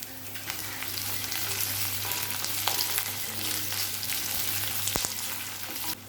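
Onion and capsicum fry in a hot pan for Gobi Manchurian fried rice, a steady close sizzle with occasional crackles and light stirring scrapes, with no talking.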